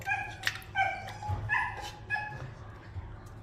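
A dog gives several sharp, high yips and barks in an uneven rhythm at moderate distance beside a home kitchen where sardines are being cooked.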